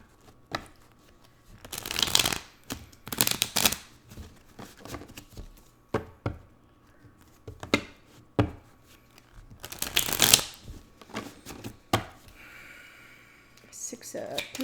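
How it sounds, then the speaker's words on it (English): Tarot cards are shuffled close up in repeated quick riffling bursts separated by short pauses, soft and crisp with faint handling taps between them. "let me do a little bit of a shuffle on these."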